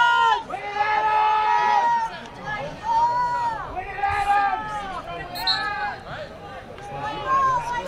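Big crowd cheering and roaring at a college playoff soccer game between CSU Fullerton and Concordia University, swelling in repeated waves of shouts and whistles with announcer talk running over it.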